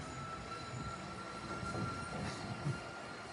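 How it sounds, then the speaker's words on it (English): A small train rolls past on rails in chilly Bologna, a steady rumbling hum with faint wheel squeal, continuous and fairly close, with no voices. "Oh, here comes a little train."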